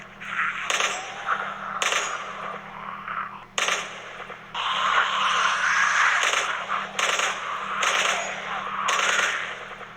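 Bursts of AK-47 gunfire ring out in a zombie video game, sharp repeated volleys in several separate clusters with short gaps, loud and close, over a low game-music drone.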